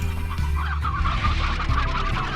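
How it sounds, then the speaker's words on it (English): Chickens in the Slime Rancher video game cluck and squawk loudly in a busy, overlapping flock over a low game background hum, with no talking. "Let's take a couple of chickens with me."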